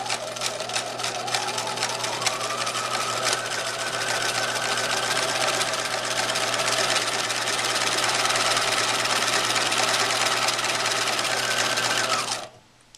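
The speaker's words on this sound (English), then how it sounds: "When you're sewing the scallop stitch, it will sew very slowly, like when you make the buttonhole." A Bernina 1008 sewing machine runs steadily and slowly while sewing a close-set decorative scallop stitch, a continuous near mechanical whir with a rhythmic needle chatter that stops abruptly at the end.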